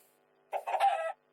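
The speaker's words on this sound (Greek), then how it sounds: "Μια κότα." A single short clucking call from a chicken in a video game, brief and clear against a faint steady hum.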